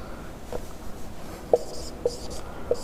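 Writing on a board during a Sanskrit grammar lesson, several short scratchy strokes at irregular intervals, close but fairly quiet, with no speech between them.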